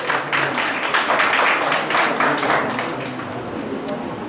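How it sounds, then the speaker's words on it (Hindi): Audience clapping fills a Best Teacher Award ceremony in Chamba as an honoree receives a shawl and cap; the applause is steady and dense, holds for several seconds, then thins slightly toward the end. "तालियां।"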